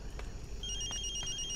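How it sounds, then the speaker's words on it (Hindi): A telephone rings with a thin electronic trill, repeated tones over a low background hum, fairly faint. "Phone phone."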